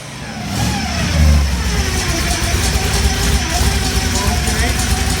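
A 1964 Ford Fairlane Thunderbolt engine cranks up and runs steadily with a low, continuous rumble, swelling briefly in a rev before settling into an even, loud idle as the car is moved forward; no clear talk over it.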